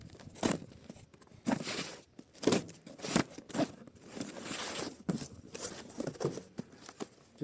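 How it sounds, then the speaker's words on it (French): A parcel of car parts for a Peugeot 106 being unboxed: close crinkling, tearing and tapping of packaging in irregular bursts, moderately quiet, with no talk. "Donc on va déballer le colis que j'ai reçu de Autodoc."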